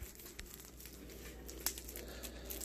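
Plastic packaging being peeled and torn off a new refrigerator ice and water filter by hand, giving a steady close crinkling with one sharper crackle midway, no talking.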